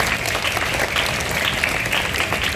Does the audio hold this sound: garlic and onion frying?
no